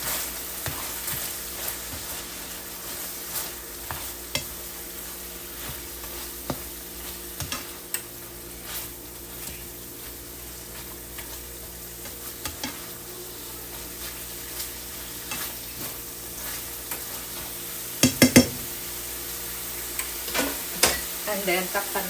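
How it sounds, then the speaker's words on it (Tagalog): Chicken and cabbage being stirred together in a pan, with scattered scraping clicks of a utensil over a steady low sizzle, a sharper burst of clatter near the end. "dito naman sa chicken mga day, lagyan natin ng cabbage. Then, i-mix lang natin mga day"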